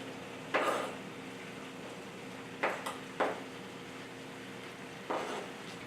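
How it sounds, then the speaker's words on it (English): Zucchini is stirred into the other vegetables in a skillet, giving a few sharp metal utensil clinks and scrapes spaced apart over a low steady background hum. "Now I'll stir the zucchini in with the rest of the vegetables"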